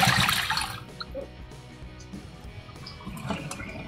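Water is emptied from a container in a cold-water test, giving a short splashing, gurgling pour that fades into faint drips, heard alone.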